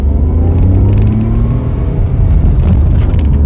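A Tata Tiago CNG with an automated manual gearbox pulls away from a standstill, its loud low engine rumble rising steadily close by, with a slight jerk as it moves off.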